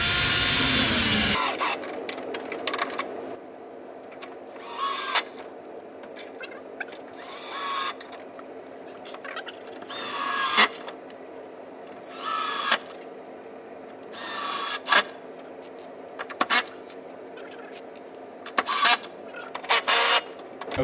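Power driver sinking bolts into a corner TV wall mount with tilt and swivel, repeated short whirring bursts separated by quiet pauses, close and fairly loud, no talk.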